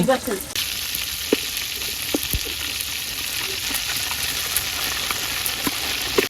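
Fish frying in a pan in a village kitchen: a steady, close crackling sizzle of hot oil runs throughout, with brief scrapes and pops from turning the fish, and no talking.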